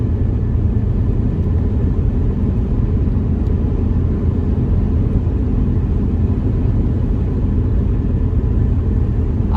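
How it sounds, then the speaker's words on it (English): A 1984 Lincoln stretched limousine cruises at highway speed, giving a loud, steady low engine and road rumble with constant wind noise and no change in pace. "we're gonna test out the cruise, see if it works"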